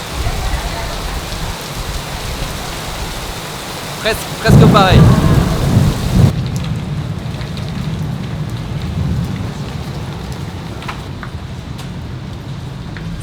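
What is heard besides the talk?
heavy rain and thunderstorm in Yokohama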